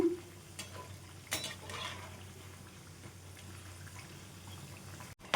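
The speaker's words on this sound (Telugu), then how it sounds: "ఇప్పుడు హై ఫ్లేమ్ పెట్టేసుకొని మంచి గోల్డెన్ కలర్లో వేయించుకుందాం" Puffed rice and potato vadas deep fry in oil over high flame, a quiet steady bubbling hiss with a few clinks of a utensil turning them.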